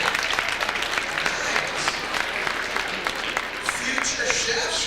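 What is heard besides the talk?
audience clapping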